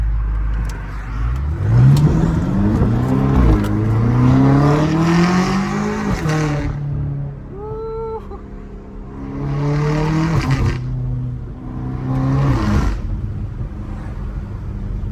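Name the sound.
BMW M5 V8 engine revving and popping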